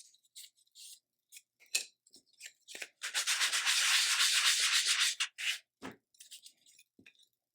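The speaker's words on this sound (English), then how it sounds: "I'm going to do a little light sanding" Close, dry rubbing strokes of light sanding on painted, charred paper, short scrapes at first, then one long continuous pass before more brief strokes.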